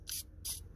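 Two short hissing bursts from an aerosol can of Teflon lubricant sprayed on a 2012 Toyota Venza parking brake, close by, separated by a brief pause over a low mechanical hum.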